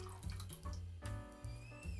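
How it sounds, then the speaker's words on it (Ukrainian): Red currant juice pours steadily into a metal pot in short splashing bursts, the pitch rising as the vessel fills. "Виливаємо сочок назад у каструлю,"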